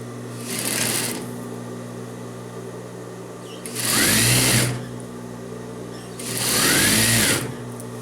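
A sewing machine stitching the side seams of men's trousers runs in three separate bursts of steady rapid whirring, each about a second long, over a constant low hum, close and loud.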